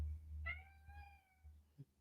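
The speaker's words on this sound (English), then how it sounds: "My cat is yelling at me." A house cat gives a single drawn-out meow, clear and fairly close, followed by a brief softer chirp at the end of a quiet indoor moment.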